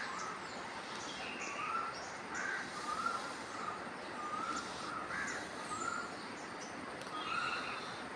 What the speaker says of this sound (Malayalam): ഈ കിളികളുടെ മനോഹരമായ ശബ്ദവും ഈ പ്രകൃതിയുടെ സുന്ദരമായ അന്തരീക്ഷവും ഇല്ലേ?